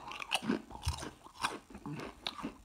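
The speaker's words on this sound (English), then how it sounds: "The crunch is great" Crunching on Utz Dark Russets, thick kettle-style potato chips, gives several close, dry crisp bites spaced through a short quiet stretch with no talking.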